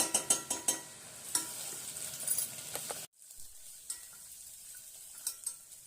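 Onion, garlic and a wet black masala paste of onion, garlic and coconut stirred and frying in a pan, with scraping strokes and a steady sizzle, briefly cutting out midway before resuming more quietly.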